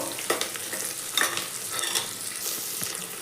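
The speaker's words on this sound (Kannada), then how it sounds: "ಜವಳಿಕಾಯಿ ಹಸಿ ವಾಸನೆ ಎಲ್ಲ ಹೋಗಬೇಕು ಆ ರೀತಿ ಚೆನ್ನಾಗಿ ಫ್ರೈ ಮಾಡ್ಕೋಬೇಕು" Cluster beans fry in a pressure cooker with a steady close sizzle, broken by repeated spatula scrapes and clinks as they are stirred, with no talking.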